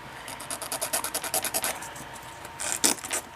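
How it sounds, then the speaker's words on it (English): Rapid rhythmic scraping strokes of a sanding stick on an Athearn EMD GP35 model locomotive, a steady back-and-forth rasp up close, ending in a few harder, louder strokes. "take our handy dandy sanding stick"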